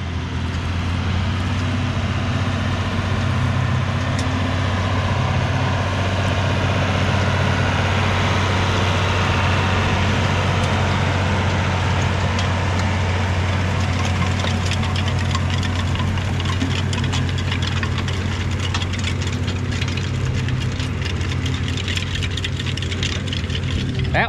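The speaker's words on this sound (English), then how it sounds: "That's a good running tractor." A tractor engine runs steadily at a constant low throb, close by and loud, with no change in pitch over the whole stretch.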